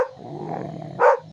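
A dog growls low and steadily at close range, then breaks into a short, louder snarling burst near the end.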